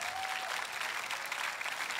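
Church congregation applauding during a sermon, a brief, even wash of many hands clapping, soft and steady with no voices over it.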